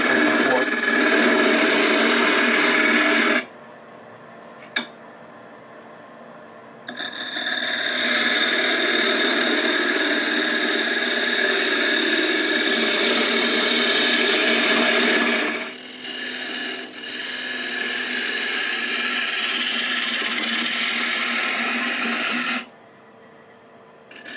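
A wooden cone for a bird feeder spins on a wood lathe, giving a loud, sustained cutting and scraping whir in long bursts separated by short quiet gaps.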